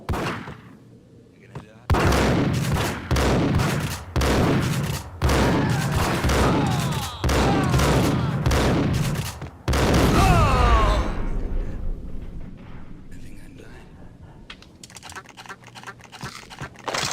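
Dense bursts of gunfire and booming impacts from Max Payne, a classic shooter played in bullet time, loud and sustained across several stretches with brief gaps, ending in quieter, scattered noise.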